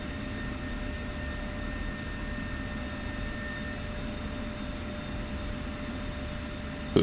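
Jet engine drone in the combat flight game DCS as an aircraft comes in to land, a steady, even roar with faint tonal whine throughout and a brief thump right at the end.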